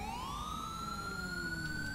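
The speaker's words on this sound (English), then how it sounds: "who is running their siren still? Please turn that off." Police siren from the video game GTA V with the LSPDFR mod, a loud continuous wail rising and sweeping upward, heard alone without speech.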